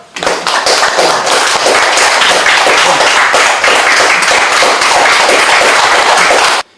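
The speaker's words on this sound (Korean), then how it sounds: "큰 박수로 환영해 주시기 바랍니다" A seminar audience at a press club event gives a loud, sustained round of applause to welcome a speaker, dense close handclaps filling the room for nearly seven seconds before stopping abruptly.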